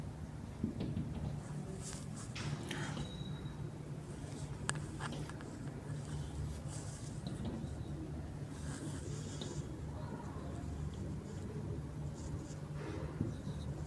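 Marker or chalk strokes scratch across a board as an example is written during a Class 11 physics lesson on free body diagrams. The strokes are soft, intermittent and close, with no talking.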